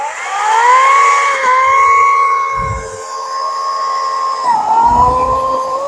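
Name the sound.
chainsaw cutting wood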